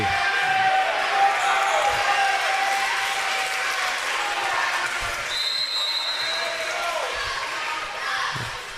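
Crowd noise fills a gym at a girls high school basketball game, Ft Cobb Broxton at Arapaho Butler, just before the tip-off, a steady murmur with scattered claps and a ball bounce or two, under a commentator's voice.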